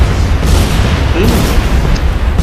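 A petrol station explodes in The Saboteur, a loud, continuous roaring blast with crackling fire and rumbling debris that fills the whole moment.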